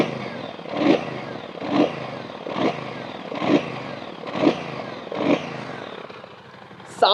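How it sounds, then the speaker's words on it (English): A Brixton Cromwell 1200 motorcycle with a 1200cc engine, idling and then blipped in a series of about six short, even revs close by. A brief voice cuts in at the end. "And I am revving the bike."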